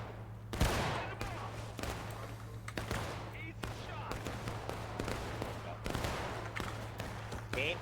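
Musket volleys ring out in a line-battle video game, with repeated sharp, loud cracks and scattered shots over a droning hum. A voice talks over them.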